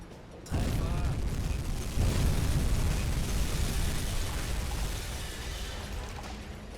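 Torpedo strikes on a Liberty cargo ship in the submarine game UBOAT: a sudden loud explosive blast followed by a second surge into sustained roaring, rumbling fire and debris noise that slowly fades.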